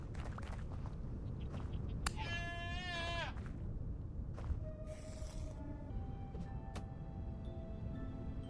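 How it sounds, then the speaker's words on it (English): A single wavering sheep bleat rings out in the Vintage Story video game, near and clear for about a second, amid soft footsteps and scattered clicks. "Found my goats, or my sheep."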